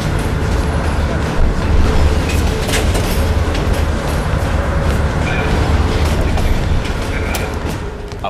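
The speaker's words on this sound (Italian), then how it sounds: "Il treno sta rallentando, andiamo." A train in Call of Duty Black Ops Cold War rolls and slows with a continuous loud rumble and faint clickety-clack of wagons throughout, no voices over it.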